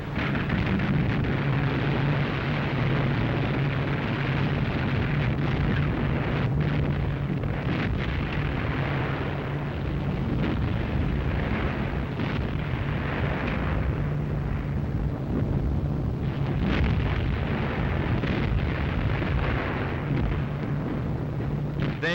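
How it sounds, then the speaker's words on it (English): The battleship Tirpitz fires every gun while heavy bombs explode around her in a Norwegian fjord, a continuous loud roar of booming blasts and rumbling detonations rolling on without pause. "Through the billowing smoke, the Tirpitz opened up with every gun she had."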